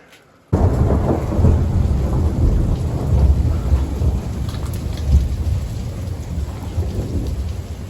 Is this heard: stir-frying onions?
no